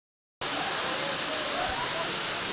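Antong Falls, a freshwater waterfall, gives a steady, dense rush of falling water that starts abruptly and holds constant and loud throughout, close by with no clear talk.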